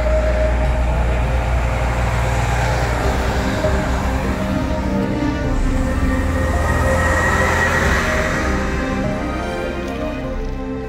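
A train rumbles steadily as it arrives at Echigo-Suhara Station in rural Niigata, its heavy low drone and metallic hum easing slightly toward the end as it slows.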